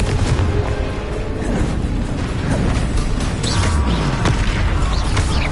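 A Confringo blasting spell exploding in a video game, heard as a dense, loud churn of blasts and crackling impacts with a heavy low rumble that persists throughout, with no speech.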